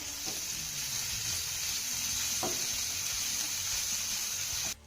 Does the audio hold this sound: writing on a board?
no